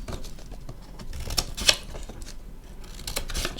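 Scissors make soft, close snipping sounds as they cut strips of material for a model roof, a quiet run of small crisp cuts with a sharper snip near the middle.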